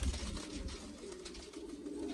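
Teddy pigeons, a fancy breed, coo steadily and softly in a loft with a low murmur of several birds continuing throughout, no voices.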